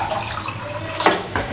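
Water poured into a cooking pot of saag gosht with chili powder, turmeric and salt, a steady running splash with a brief louder surge near the end, close by.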